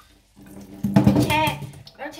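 Vegetables are rinsed under a running tap in a sink. Water splashes and gurgles close by, beginning after a brief silence and continuing steadily, with someone speaking over part of it.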